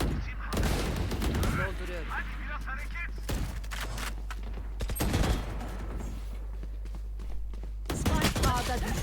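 Rapid bursts of gunfire in the Valorant video game, sustained fusillades and single cracks fired close and loud in dense clusters, with a voice talking over parts of the shooting.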